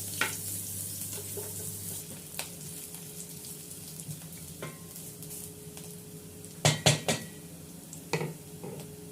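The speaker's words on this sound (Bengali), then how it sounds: "মোটামুটি মিডিয়াম ব্রাউন কালার মতো ভাজা হয়ে গিয়েছে পেঁয়াজ আর রসুনটা।" Chopped onion and garlic frying in hot oil for masoor dal, a continuous close sizzle with a scatter of utensil knocks and a cluster of louder clatters near the end.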